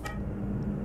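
A brief, bright horn honk from a Marcopolo Paradiso G7 1200 coach bus at the very start, then a steady low engine rumble that continues for the rest of the moment.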